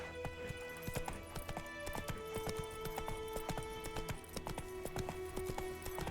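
Roach, a horse in a video game, gallops with rapid, rhythmic clip-clop hoofbeats at a steady pace, close and continuous, with music-like tones running underneath.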